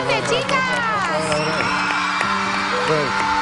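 A television talent-show audition audience cheers, whoops and shouts loudly and continuously, with excited voices and crowd noise filling the space throughout.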